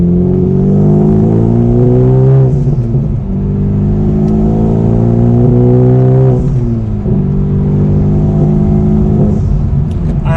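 A manual-transmission car pulls hard through its gears as a loud, close engine climbs in pitch, drops briefly at each of two shifts, and then climbs again with a smooth, rising drone.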